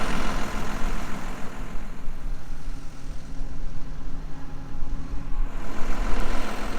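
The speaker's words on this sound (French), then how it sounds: "Bon voilà le tracteur, donc le 190R." Tractor, a 190R, running in a flax field during flax rolling and baling, its heavy diesel engine rumbling steadily at close range without talk, swelling slightly louder toward the end.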